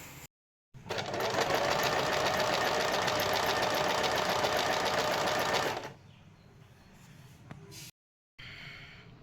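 A sewing machine stitches pico edging on a saree, running close and loud in one continuous rapid chatter for about five seconds before stopping, followed by quieter handling noise.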